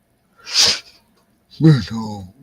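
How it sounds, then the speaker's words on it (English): A dog gives a single sharp, close sneeze, followed after a short pause by a person speaking. "He's just sneezed."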